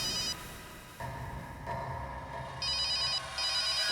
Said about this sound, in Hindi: अभी 1 मिनट में फोन की रिंग बजेगी